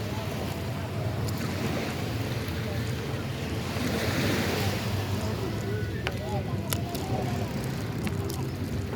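Surf rolls onto Fort Myers Beach in Florida as a constant loud wash, heavy with wind buffeting the microphone and a person talking underneath.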